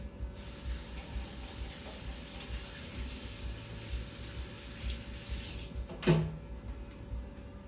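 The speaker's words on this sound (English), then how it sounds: "Rinse my hands off." Water runs steadily from a kitchen tap as hands are rinsed during deviled egg preparation, a soft continuous splashing hiss with a brief clunk near the end.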